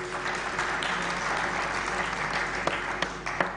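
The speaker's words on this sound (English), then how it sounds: "Give her a round of applause." An audience at a diaspora homecoming convention applauds for a Prime Minister, steady sustained clapping from many hands filling the hall, with a few sharper claps near the end.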